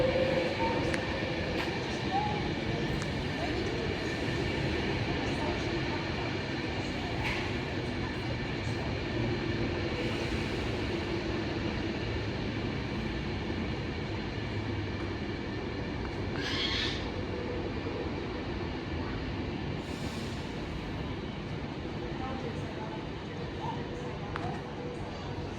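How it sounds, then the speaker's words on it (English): A Class 390 electric train on the 13:10 service from London Euston to Manchester Piccadilly at Nuneaton on the West Coast Main Line, rumbling steadily and continuously close by with a few brief higher squeals over it. "coming out is the 1310 Adventure West Coast service from London Euston to Manchester Piccadilly"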